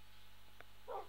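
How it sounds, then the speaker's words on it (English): A dog in Minecraft gives a single short bark near the end, fairly clear above a faint steady background hum. "And that's a dog, not a sheep."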